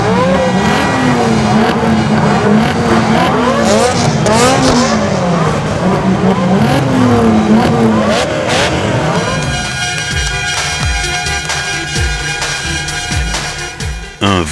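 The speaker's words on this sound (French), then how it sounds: "Un vrombissement qui a donné la chair de poule aux invités et aux visiteurs." Several sports car engines rev hard together at a Capristo car meeting, a loud sustained roar of rising and falling throttle blips, then settling into a rougher idle with occasional revs.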